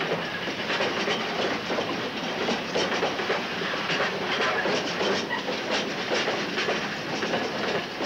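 British Railways steam locomotive 92058 hurries a rail tour of six coaches south on the Wirral near Heswall Hills in 1967, a steady loud rush of running train and clattering wheels throughout.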